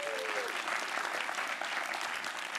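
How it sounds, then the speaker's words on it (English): Dense, continuous applause fills the hall as an audience at a London hackathon closing ceremony claps for the judges, loud and steady throughout with no speech over it. "give a warm round of applause to all of our judges"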